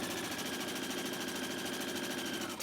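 A sewing machine stitches along the curved edge of a fabric face-mask piece, a steady, fast mechanical whir running continuously and fairly close throughout.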